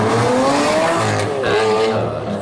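A Lamborghini Aventador engine revs loud and high, screaming and climbing in pitch, dropping, then surging again, with a tire-squeal edge to the close, roaring sound.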